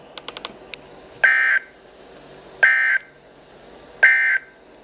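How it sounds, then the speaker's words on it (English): Weekly radio test of the emergency warning alarm: after a few quick clicks, three loud, steady electronic tone bursts sound, each about a third of a second long, separated by roughly one-second gaps, with no voice over them. "The warning alarm tone will be activated for hazardous conditions."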